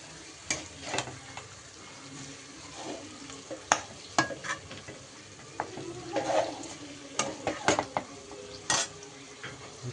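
Chicken fries in a pan for a home-style curry while a spoon stirs it, steady soft sizzle under irregular scraping and clinking strokes, near and moderately quiet, no voices.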